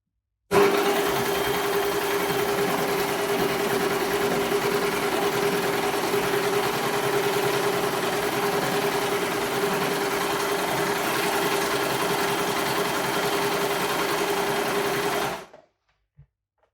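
A Baby Lock Desire3 combination machine sews a rolled hem at stitch length 2, running in one steady, even whir for about fifteen seconds before stopping abruptly.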